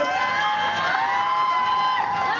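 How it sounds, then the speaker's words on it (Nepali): A school event crowd cheers and whoops steadily for a couple of seconds, with children's shouts mixed into the dense, continuous applause. "उतापट्टिबाट आज मन्दिर छेउबाट ताली"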